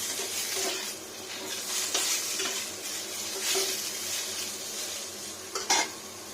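Potato pieces fry in oil in a pan for a Bengali sukto lunch, a continuous sizzle broken by scraping stirs of a utensil against the pan and a sharper clatter near the end.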